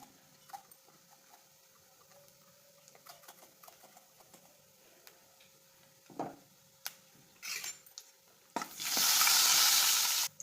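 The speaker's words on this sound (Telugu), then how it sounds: "ఆయిల్ వేడియాక కొంచెం జీలకర్ర కొంచెం ఆవాలు కొంచెం మినపప్పు వేగిన తర్వాత కొంచెం జీలకర్ర ఇంగు వేసుకోవాలి" Cumin, mustard seeds, urad dal and asafoetida drop into hot oil for a cauliflower-stalk chutney tempering. Faint scattered clicks and taps come first, then a sudden loud, sustained sizzle bursts up close near the end.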